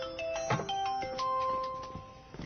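A phone's ringtone plays a melodic sequence of bright, chiming tones, clear and fairly close, with no talking over it.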